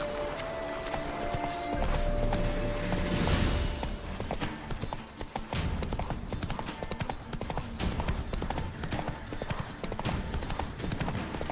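Galloping hooves of Roach, the horse in The Witcher 3: Wild Hunt, drumming in a rapid, steady clip-clop close up and loud, with game ambience underneath and a short whinny near the start.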